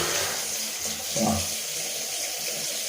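Warm water running from a bathroom tap while shaving with a Gillette Mach 3 razor, a steady close hiss of flow with a brief gurgling swell partway through.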